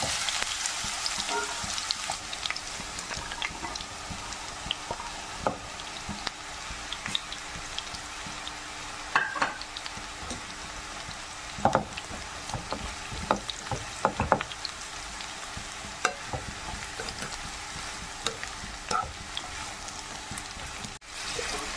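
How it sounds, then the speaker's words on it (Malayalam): Bitter gourd sautés in hot coconut oil with a steady, close sizzle that lasts the whole time. Occasional sharp stirring clicks cut through, and no one speaks. "എണ്ണ ചൂടായപ്പോൾ ഇതിലേക്ക് പാവയ്ക്കായിട്ട് നമുക്കൊന്ന് നല്ലോണം ഒന്ന് വഴത്തിയെടുക്കാം"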